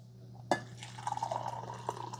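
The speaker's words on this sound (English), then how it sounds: "so let's see how the craft pours" Coffee pours from the glass carafe of a Cuisinart DGB-550BKP1 Grind & Brew 12-cup coffee maker, starting with a clink and continuing as a soft, close trickle over a low kitchen hum.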